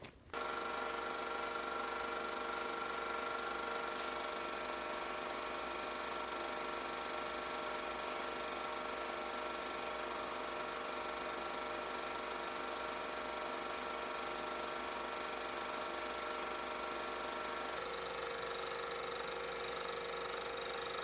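A small motorized bicycle engine runs steadily and loudly without a break, its buzzing drone holding an even tone throughout before the pitch settles slightly lower near the end.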